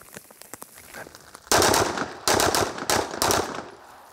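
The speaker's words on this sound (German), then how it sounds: "Drei Schuss, bereit!" Pistol shots fired during a police shooting qualification test, loud sharp cracks in a few quick bursts after faint clicks, close and echoing, with no talking.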